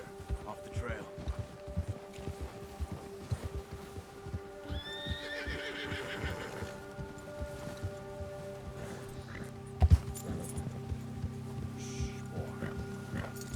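In Red Dead Redemption 2, a horse frightened by a bear lets out a shrill whinny amid clip-clopping hooves and a loud thump, with someone talking over the game sounds.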